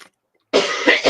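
After a brief silence, someone breaks into a harsh, close fit of coughing from smoking it straight, several loud hacking bursts run together with no talk over them.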